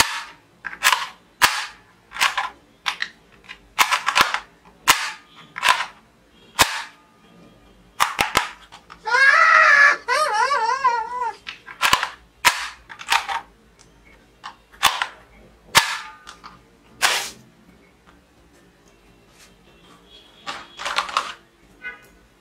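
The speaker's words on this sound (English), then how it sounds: "Musical Chinese toy gun" A musical Chinese toy gun fires a long run of sharp, snappy cracks at a quick, uneven pace, broken midway by a brief warbling electronic tune, loud and close with no voices.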